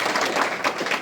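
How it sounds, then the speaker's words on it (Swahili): An audience at a gathering in Kenya claps hands, a dense, steady patter of many hands at moderate loudness with no voices breaking through. "Joseph ni baba wa Kibe, pigieni makofi mazuri."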